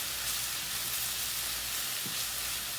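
Haitian epis, a blended seasoning, frying in a hot pan before beef goes in; a steady, even sizzle with a constant hiss runs throughout, close and fairly loud, with no talking.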